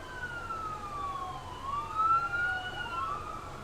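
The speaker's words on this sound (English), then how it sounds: "that's a loud siren." Sirens from several emergency vehicles, fire trucks, an ambulance and a police car, wail and sweep up and down at a moderate distance, overlapping above a steady rumble of traffic.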